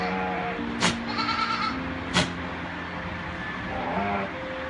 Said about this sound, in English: a Moroccan farmer found this huge, menacing-looking goat